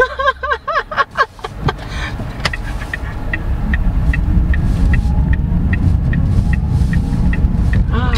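A 2023 Jetour Ice Cream EV circling a roundabout, with a steady low road rumble and tyre hum that builds and holds after a few brief knocks and clicks at the start, plus a faint repeating electronic chime.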